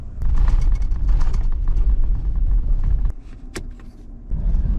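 A 2022 Toyota Tundra in two-wheel drive rolls over rough gravel up to a trailhead, with loud low rumble and crunching that briefly eases midway before resuming.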